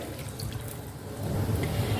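Water runs into a cooking pot as a pointed gourd, potato and catla fish curry is prepared, a steady soft splashing pour that grows slightly louder toward the end.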